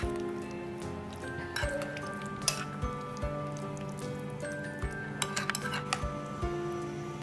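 Thick curd being stirred with orange pieces for a sweet-tangy raita, with scattered clinks and taps of a spoon against a bowl over a soft wet squish, close and fairly quiet.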